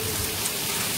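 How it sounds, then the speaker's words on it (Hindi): Heavy rain pours down steadily in a dense, continuous hiss, close and loud, with no voices. "बहुत ज़्यादा तेज़ बारिश हो रही है।"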